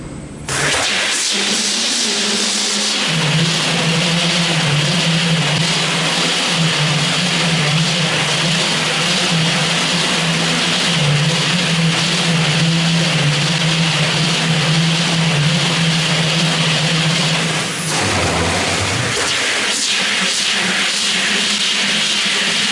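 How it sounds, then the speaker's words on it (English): A slitting rewinding machine for tape starts up and settles into a loud, steady mechanical drone with a constant low hum and broad hiss, running continuously before briefly dipping near the end and resuming. "He will start the machine and set the speed."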